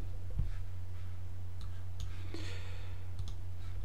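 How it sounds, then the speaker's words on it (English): A computer mouse clicking a few times, small faint ticks over a steady low electrical hum, with a pair of quick clicks near the end. "we double click on the icon and that will set up the installer"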